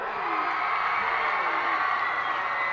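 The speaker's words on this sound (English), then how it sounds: "Crowd goes wild." A capacity hometown crowd at a boys high school soccer section final roars continuously, a dense wash of cheering and shouting heard from a distance.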